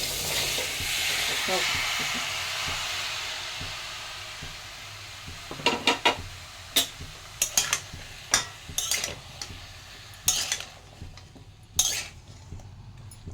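Tomato sauce cooks in a wok with a soft steady sizzle, then a utensil repeatedly scrapes and clacks against the pan in irregular strokes, close and fairly loud, with a brief word spoken.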